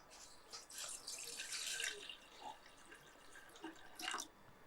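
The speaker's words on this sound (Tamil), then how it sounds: "அந்த பேனில் கொஞ்சம் தண்ணி சேர்த்துடலாம்" Water is poured into a pan for a ridge gourd lentil payasam, a soft splashing trickle that comes and goes in faint bursts with small drips.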